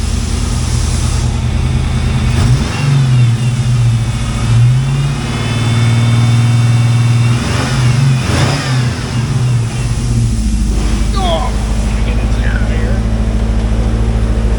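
Engine of a 1990 Ford Mustang GT with the 5.0L V8, idling and revving nearby, with a loud, steady rumble and rising and falling revs, while a person talks over it.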